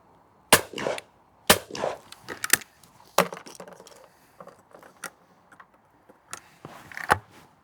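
Shotgun firing Italian overseas cartridges at clay targets at a club shoot, several sharp separate reports spaced a second or more apart, each with a short decaying tail, close and loud with no talk.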